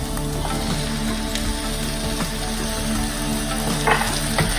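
Cooked chickpeas go into a hot pan for chana masala, giving a steady, dense sizzle and crackle of frying, close and continuous throughout.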